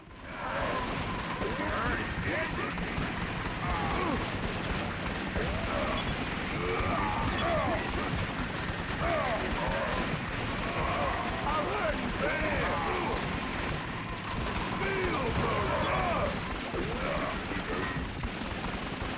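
Assault rifle and pistol gunfire in the video game Twin Caliber, a dense, unbroken barrage of rapid shots and blasts that stays loud and steady from start to finish.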